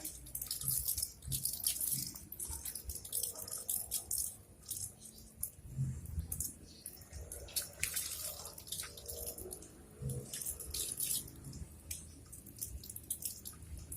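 A cheap 360-degree rotating garden sprinkler sprays water across a home yard, giving a steady close hiss of spattering droplets with irregular bursts and drips, no voices present.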